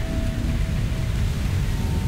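Heavy rain and thunder in the video game Cold Fear form a dense, steady roar of rainfall with deep low rumbling throughout, no voices.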